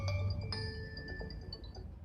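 A short electronic alarm tone from a Huawei Nova 2i phone sounds on its own, a few thin ringing notes sustaining and fading, fairly quiet.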